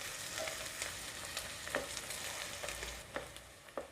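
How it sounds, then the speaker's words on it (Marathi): Onions sautéing for a mutton curry sizzle steadily in a pan, with soft scraping stirs and a few sharp spoon knocks against the metal; no voices. "कांदा अजून आपण 2 मिनटं परतून घेणार आहोत."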